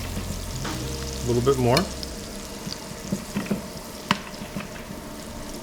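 Scallops basting in melted chipotle compound butter in a hot pan give a steady close sizzle, with spoon scrapes and a short burst of louder crackle, while a voice speaks briefly over it.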